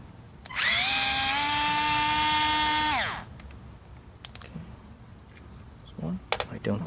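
A power drill backs screws out of an installation bracket: one loud, close whine of about two and a half seconds with a pitch that sags as it stops, followed by quieter handling clatter.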